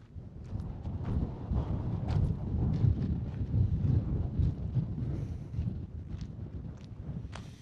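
Steady wind buffets the microphone at a dispersed desert campsite in the San Rafael Swell, a continuous low rumbling roar with gusty swells and no voices.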